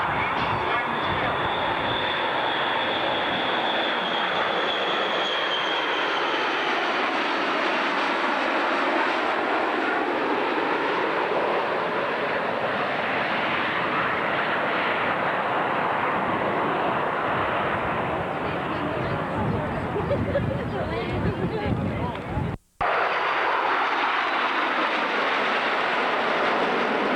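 An eight-engine bomber at an air show gives a loud, continuous engine roar whose rumble rises and falls as it passes, with a brief dropout near the end.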